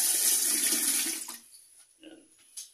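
Strong tap water gushes loudly in a clean campsite restroom, then cuts off, leaving a few small splashes and drips in near silence.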